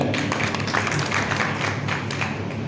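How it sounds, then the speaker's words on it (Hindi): Audience applause at a farmers' gathering on water conservation, a steady dense wash of clapping sustained throughout without pause. "एक बार जोरदार तालियां हो जाए।"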